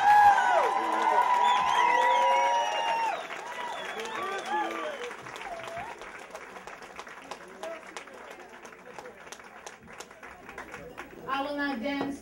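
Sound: audience applause and cheering

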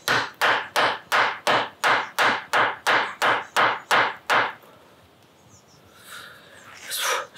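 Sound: rubber hammer hammering wood for a bug hotel

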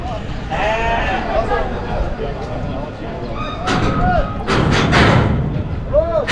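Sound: lambs bleating at a livestock market

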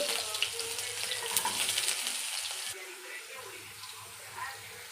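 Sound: onions frying in oil in a pan

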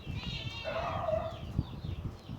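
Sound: chickens clucking

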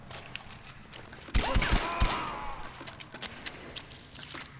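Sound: gunfire in a video game

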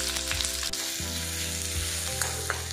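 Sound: sliced onion frying in mustard oil, stirred

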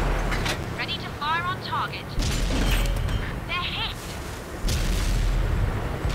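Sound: tank cannon firing in World of Tanks video game

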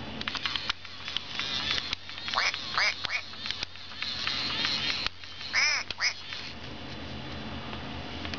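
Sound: FurReal Friends toy duckling quacking

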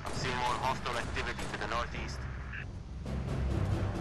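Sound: assault rifle gunfire in video game Halo Reach

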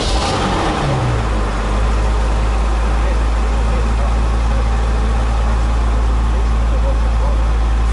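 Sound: Porsche car engine idling

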